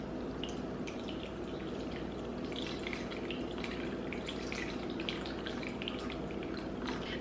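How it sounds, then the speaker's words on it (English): Cold brew coffee filters through a filter, giving a steady, faint stream of fine dripping and trickling liquid that goes on evenly with no pauses and no voices. "This is how fast it's filtering."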